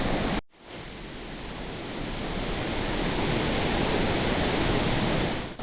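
Salto Monday, a waterfall in Paraguay near Ciudad del Este, sends up a loud, steady, broadband rush of falling water that continues unbroken after a brief dropout at the start.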